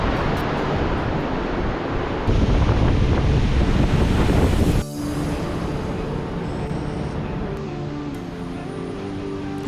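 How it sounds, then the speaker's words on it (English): Strong wind gusting across a Himalayan trekking trail on the Manaslu Circuit in Nepal, buffeting the microphone in a loud steady roar that drops briefly midway and resumes slightly softer; no voices. "We were then back on the windy trail."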